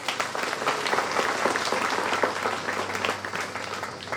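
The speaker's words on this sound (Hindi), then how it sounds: "और एक बार ताली बजा देंगे।" A seated audience at an Archdiocese of Ranchi church gathering breaks into sustained, steady clapping that fills the room for several seconds without pause.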